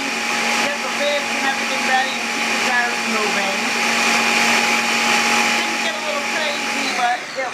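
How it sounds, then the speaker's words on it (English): A countertop blender whirs steadily for several seconds, pureeing plums during a home canning session where grape jelly cooks nearby, with a constant loud motor drone throughout. "while we're cooking down the grape jelly, I'm going to be pureeing the plums that we've got"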